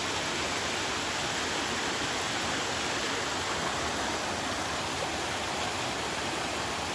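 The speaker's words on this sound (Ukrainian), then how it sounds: "гарний водоспад." The Lazny waterfall roars steadily nearby, a dense broadband rush of falling water with no breaks and no voices.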